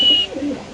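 A single male pigeon at a large pigeon farm gives a short, low cooing call, close and fairly loud, heard alone without talk.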